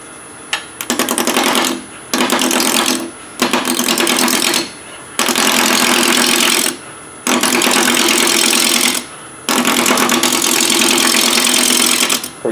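A wood lathe turns a hollow form blank into a cylinder, likely under a roughing gouge. Loud, close bursts of cutting noise come in repeated passes of a second or two, separated by short quieter gaps.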